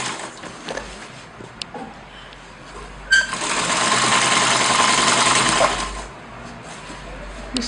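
A sewing machine runs for a few seconds while stitching a hat base and crown, a near, steady motor whir that starts abruptly after quiet handling noises and stops again, followed by faint clicks.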